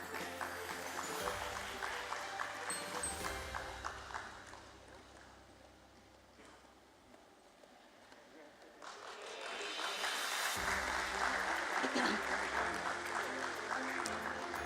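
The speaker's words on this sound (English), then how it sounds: "Ladies and gentlemen, a round of applause for Mr." Audience applause for a director at a BSE closing bell ceremony, B. D. Industries (Pune) Limited: sustained clapping from a crowd, dipping midway, then swelling back loud and steady to the end.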